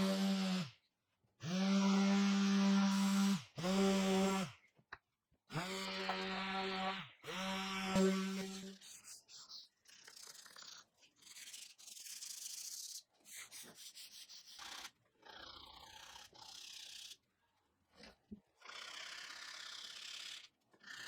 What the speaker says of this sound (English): Before I assemble the legs and stretchers, I'll sand them first